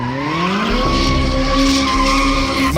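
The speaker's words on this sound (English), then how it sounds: "McLarens do donuts." A McLaren sports car spins donuts, its tires skidding and squealing loudly and continuously over a steady engine roar, close by, with no voices.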